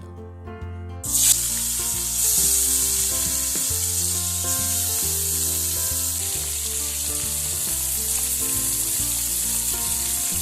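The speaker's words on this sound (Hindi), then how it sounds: "तापरे माछ के टिके सरसों तेल रे छानी दमा पूरा लाल होबा" Fish pieces fry in hot mustard oil in a pan, a loud, steady crackling sizzle that starts abruptly and continues without a break, with no voices.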